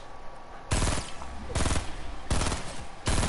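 Bursts of automatic gunfire in the Fortnite video game, three rapid-fire volleys of closely spaced loud shots separated by short pauses, with faint background game noise in between.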